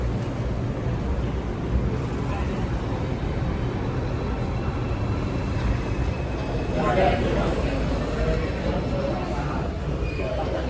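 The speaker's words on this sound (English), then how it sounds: "Here's the train. This is a Manhattan-bound 2 train." A Manhattan-bound 2 subway train in the Bronx, New York City, pulls into the station with a steady, loud rumble and roar that fills the whole clip, with voices faintly mixed in.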